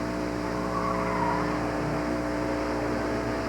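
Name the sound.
Honda Prelude autocross run, tires squealing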